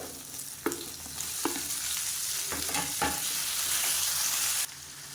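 Onions and tomatoes sauté in a hot pan while being stirred, a steady close sizzle of frying broken by several distinct scraping strokes of a spoon against the pan.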